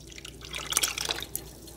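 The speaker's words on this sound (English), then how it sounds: "And I'm going to add the 2 cups of water." Two cups of water pour into a cooking pot, a short close burst of splashing and gurgling that swells and then tapers off into drips.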